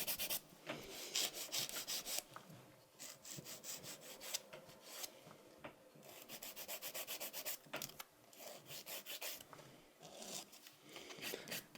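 A nail file shapes and blends sculpted acrylic nail tips with quick back-and-forth scratchy strokes, soft and close, coming in uneven bursts with short pauses and no speech.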